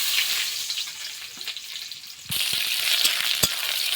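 Onions dropped into hot oil in a home kitchen pan crackle and sizzle steadily, with a louder burst of frying partway through and occasional stirring scrapes, no talking.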